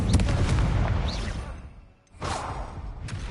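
A fire spell cast in Hogwarts Legacy on PS5, heard as a loud whooshing, crackling burst of flame with a booming low rumble, fading out briefly before a second burst flares up.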